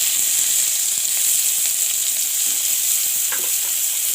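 Onions and green chillies dropped into hot oil with bay leaf and five-spice seeds sizzle in a pan, a dense unbroken frying hiss, close and loud, with a brief stir near the end and no voices.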